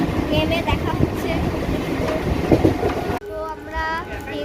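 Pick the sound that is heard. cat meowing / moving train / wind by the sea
moving train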